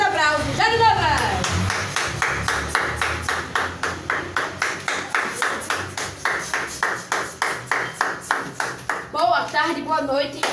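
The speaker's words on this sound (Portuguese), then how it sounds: "Recebam com muitos aplausos, Jânio Novas!" An audience breaks into clapping that settles into a steady, rhythmic beat of claps, with voices cheering at the start and end.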